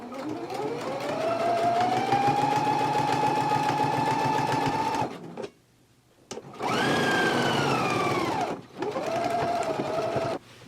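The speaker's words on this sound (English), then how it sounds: "now we can go to the machine and we can stitch it right along this basting stitch now." A sewing machine stitches a jacket along a basting stitch. It whirs steadily for about five seconds, pauses briefly, then runs again with a short stop partway through, close and loud.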